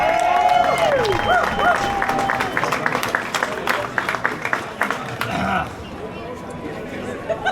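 A crowd at a Glasgow street protest against digital ID claps and cheers for a speaker, loud mixed applause and shouting with a whistle-like tone early on, thinning into scattered claps and chatter.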